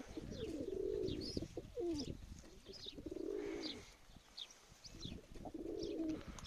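Domestic pigeons coo in three repeated rounding phrases, close by and fairly loud, with softer chirps and occasional wing flutters between them and no talking.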